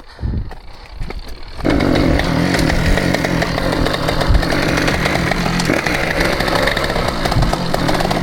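A 50cc dirt bike engine catches after a short quiet start and then runs loud and steady, its revving buzz close by and continuous for several seconds.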